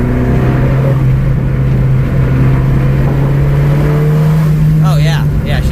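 A 10th generation car's engine runs with a steady low drone and rises slightly toward the end, close and continuous, heard just after its spark plugs were changed and gapped.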